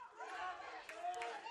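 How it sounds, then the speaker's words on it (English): Football crowd at a second-quarter game against William Penn, a broad steady roar of cheering and chatter rising to urge on the defense, sustained and moderately loud throughout. "Crowd trying to get the defense into it."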